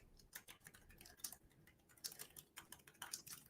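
Quiet, close tapping of a computer keyboard in irregular clusters of quick clicks, with short pauses between bursts.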